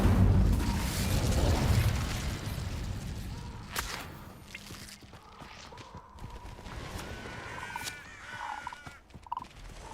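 A fire spell being cast in Hogwarts Legacy makes a loud whooshing, crackling burst near the start, followed by scattered bangs, pops and fainter magical effects.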